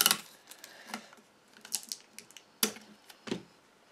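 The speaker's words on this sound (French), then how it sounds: "je me coupe des petits bouts de scotch d'avance" Sticky tape is cut into small pieces for an iris folding bird card, giving a few sharp, close crackling snips and rips spaced irregularly over a quiet background.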